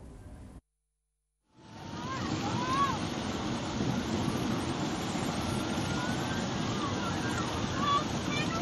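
Two-metre surf rolls over a small jukung fishing boat off Puger beach in Jember, East Java: a steady, heavy roar of breaking water and wind that starts after a brief silence and continues without pause.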